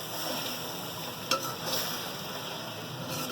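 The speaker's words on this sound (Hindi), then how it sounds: "मसाला हमारा बहुत अच्छे तरीके से भून चुका है, और गोश्त भी हमारा बहुत अच्छे तरीके से फ्राई हो चुका है" Chicken and masala frying in a pan for dhaba-style chicken bhuna, a continuous dense sizzle close up with a brief clink of a utensil partway through.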